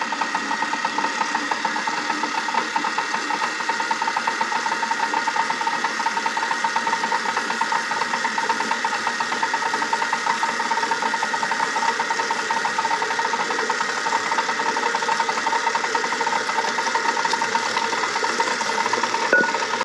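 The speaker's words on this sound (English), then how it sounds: "increase speed to medium and beat for about 6 minutes" Electric stand mixer beating gluten-free sandwich bread dough at medium speed: a continuous, even motor whir with a faint rattle, steady and unchanging throughout and close by, with no speech.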